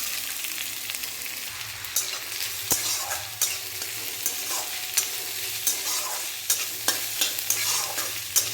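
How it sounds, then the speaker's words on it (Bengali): Chopped onions sizzle and crackle steadily in hot oil, with occasional sharp scrapes and clinks of a spatula stirring the pan. "দেখুন কড়াইয়ে তেল দিয়ে নিয়েছি, এর মধ্যে দিয়ে দেবো পেঁয়াজ কুচি।"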